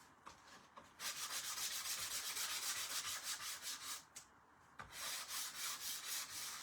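An electric sander works over painted wreath pieces with a faint, hissing rasp that runs in steady pulses, breaking off briefly twice before starting again.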